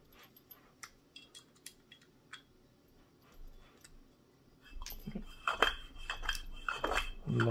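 A metal slider assembly on a sim racing motion platform actuator running along its rail: light ticking and clinking at first, then a louder, closer rush of metallic scraping and rattling clatter toward the end.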